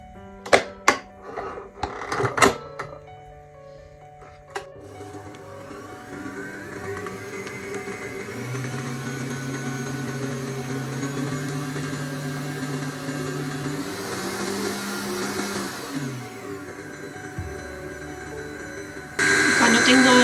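Electric mixer beating cream cheese for carrot cake frosting: after a few knocks and clatters, a steady whirring motor runs for about fifteen seconds, then cuts out before a louder burst of noise at the end.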